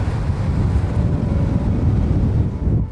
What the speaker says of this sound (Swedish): Ja, det blåser ju mer idag.